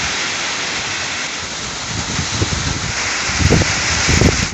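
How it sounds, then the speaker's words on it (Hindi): Heavy rain pours steadily near a Balaji temple, a dense, continuous hiss with heavier splashing bursts building toward the end. No voices. "अब बारिश गिर रहा है और जोर से गिरने लगा सा पानी।"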